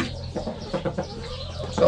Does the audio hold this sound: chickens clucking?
yes